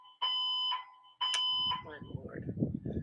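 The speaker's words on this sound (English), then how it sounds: "Fire alarm." A fire alarm blares in two loud, steady electronic beeps, then cuts off as muffled rustling and a voice follow.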